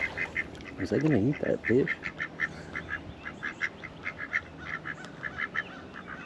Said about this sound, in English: The duck's coming to check it out too.